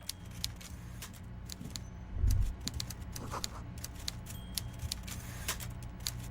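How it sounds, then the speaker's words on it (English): Typewriter clattering in the video game Disco Elysium, with sharp keystrokes tapping out in an uneven, steady run over a low background hum and a brief dull thump partway through. "Meanwhile, Everard Clare clatters away on his typewriter, willfully indifferent to your presence."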